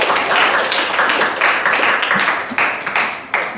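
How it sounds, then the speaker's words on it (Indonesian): Classroom applause from sociology students for a classmate, a dense spread of clapping hands continuing steadily for a few seconds with a few sharper claps standing out near the end. "Berikan aplaus buat Rizky."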